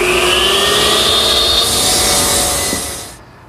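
A power miter saw cuts mitered wooden tray sides to length against a stop, a loud steady whine through the wood that spins down and fades near the end.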